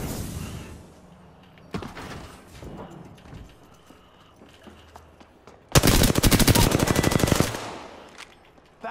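Rapid automatic gunfire in the video game Apex Legends rings out in a dense, loud burst lasting a couple of seconds, after scattered softer shots and game noises, with no talk over it.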